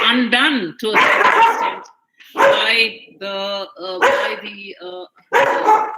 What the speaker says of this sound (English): I'm sorry for the dog bark.